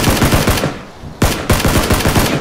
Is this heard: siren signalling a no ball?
no